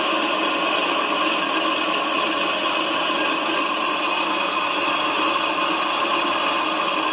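A power drill with a freshly sharpened bit bores steadily into wood, its motor a loud, close, constant whine with a rough cutting texture, running without pause and without talk.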